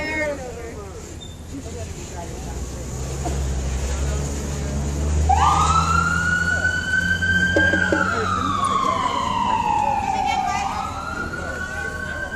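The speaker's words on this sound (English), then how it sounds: "Move it! There's an ambulance!" An ambulance siren wails through a street protest, rising in and sweeping down in pitch as it passes close by, over a rumbling engine and crowd noise with people talking.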